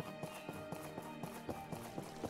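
Steady, evenly spaced footfalls in a walking rhythm in the game My Time at Portia, about two steps per second, quiet against a faint ambient game soundscape.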